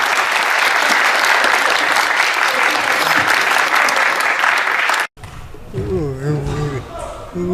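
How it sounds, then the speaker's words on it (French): A crowd at a Paris tournament applauds in a loud, sustained burst, then the clapping cuts off and a voice speaks alone. "si vous pouvez les applaudir"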